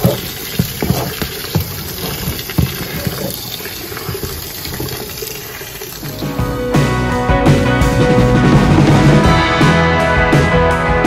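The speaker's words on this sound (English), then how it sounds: "Rinsing the seed." Water runs over barley seed being rinsed for a hydroponic fodder system, first as uneven splashing and trickling, then as a louder, steady gush of filling and pouring water for the rest.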